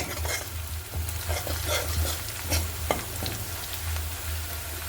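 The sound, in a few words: onion with coconut and green chili frying in a pan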